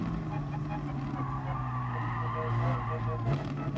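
A race car in Gran Turismo Sport brakes hard into a chicane, tires squealing in a long sustained skid over the steady engine drone, loud and close throughout.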